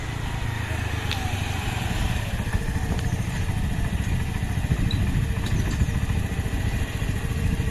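A 2019 Honda Navi motorcycle engine runs steadily close by, a continuous low chugging drone with faint clatter throughout and no pauses.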